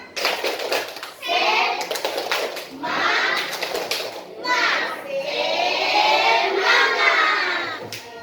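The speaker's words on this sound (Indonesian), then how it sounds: "Tepuk semangat." Schoolchildren in a classroom chanting and clapping the "tepuk semangat" spirit routine in loud bursts, young voices shouting in unison between rhythmic claps.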